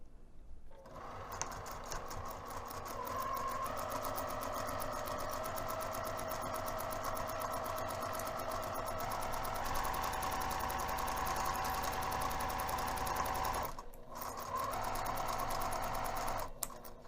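A sewing machine runs steadily for a long stretch, a fast even hum of stitching around a bag's zipper panel, pausing briefly near the end before starting up again.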